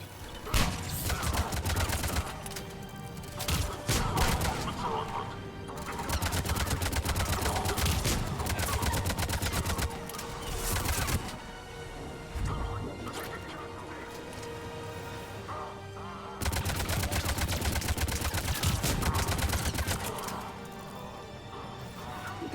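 Heavy gunfire and crashing impacts during an intense attack in Mass Effect 3, with dense bursts of shots and blasts filling most of the stretch and brief lulls between loud volleys.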